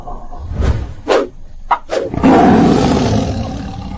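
A few sharp, snarling bursts break out, then a wolf's deep, loud growl rumbles on continuously, close by, with no speech.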